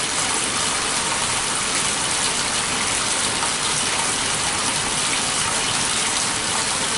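Water gushing and churning steadily inside a Laundry Alternative Superpop washing machine, a constant loud rushing wash with no talking.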